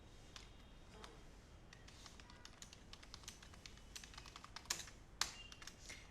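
Quick, irregular clicking of a computer keyboard as CSS code is typed, close and quiet, with bursts of keystrokes and a few sharper taps near the end.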